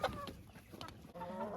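Hens cluck in a chicken coop, a few short clucks and a drawn-out call rising over a busy farmyard background.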